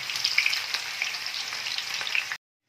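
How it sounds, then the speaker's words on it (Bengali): Onions frying in hot oil for a Bengali katla fish korma, a loud, steady sizzle with dense crackles that cuts off abruptly. "এখন আমি পেঁয়াজটা ভালো করে ব্রাউন করে একদম ভেজে নেব"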